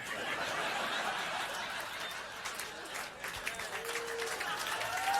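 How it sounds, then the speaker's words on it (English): Comedy club audience breaks into sustained applause mixed with scattered chuckles and laughter after a stand-up joke, a dense steady wash of clapping that stays fairly even throughout. "Get some applause on that CD."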